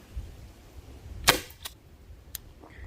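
A Byrna self-defense launcher fires a projectile once as a single sharp crack, followed by a couple of fainter clicks or impacts in a quiet outdoor setting.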